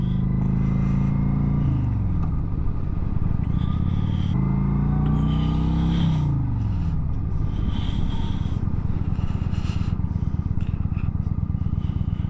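A Kawasaki Vulcan 900 cruiser motorcycle being ridden, its engine droning steadily and rising in pitch through two or three gear pulls, then settling into a constant rumble with wind noise and light rattles, no speech.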